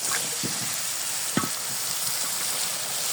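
Bitter gourd frying with green chillies and turmeric in a pan, a dense steady sizzle with a few spattering pops and short stirring scrapes close by.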